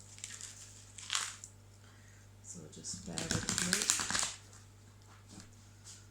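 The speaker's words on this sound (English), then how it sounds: "I'm just going to give the cards a shuffle." A deck of tarot cards is shuffled in short crisp riffling bursts, one brief flurry and then a longer stronger run, with someone speaking briefly over the shuffle against a quiet hum.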